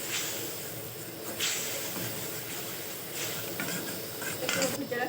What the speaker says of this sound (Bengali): একটু সামান্য জল দিয়ে মশলাটা ভালো করে কষিয়ে নেবো।